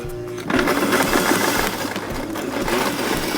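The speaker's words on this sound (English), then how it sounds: "I'm gonna sew all the way around" A sewing machine stitches a pillow cover, starting up abruptly and then running in a fast steady whirring chatter close by for a few seconds without talk.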